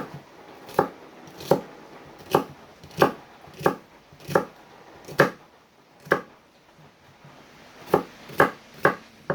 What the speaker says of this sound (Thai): หอมใหญ่นะจ๊ะมาหั่นกันค่ะ